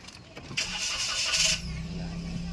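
A Toyota Wigo with its check-engine light on after being driven through floodwater cranks briefly and catches, settling into a steady, fairly close idle.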